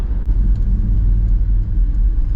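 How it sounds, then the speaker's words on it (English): A vehicle with a swapped axle whose ring and pinion depth was set wrong drives along, giving a steady, loud low rumble of road and drivetrain noise with a faint bearing whine underneath, and nobody speaking. "It does have a little bit of bearing noise with it, for sure."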